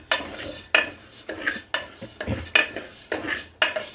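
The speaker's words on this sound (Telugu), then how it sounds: "అదే కుక్కర్లో ఈ పప్పును కూడా వేయించుకుందాం. ఈ విధంగా తిప్పుతూ వేయించుకుందామండి." A utensil scrapes and clinks repeatedly against a pressure cooker as lentils are stirred and dry-roasted inside it, making a steady rhythm of sharp metallic strokes with faint rustling of the dry lentils between them.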